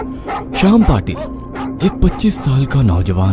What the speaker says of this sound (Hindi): सोसाइटी के गेट के बाहर कुत्ते भौंक रहे